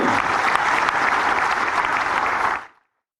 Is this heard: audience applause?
yes